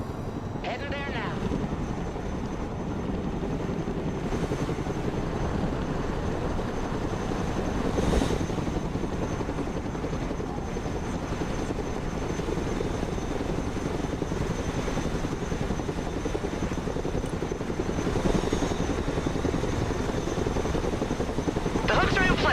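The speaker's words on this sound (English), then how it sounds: "Let's go and recover it with our helicopter." A cargo helicopter flies in the video game Broken Arrow, its rotor and engine making a continuous loud drone throughout, with someone talking over it.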